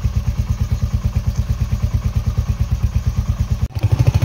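Motorcycle engine idling and running at the start of a ride from Kolkata, a close, steady throbbing putter with an even pulse, briefly cut off near the end before the engine note returns.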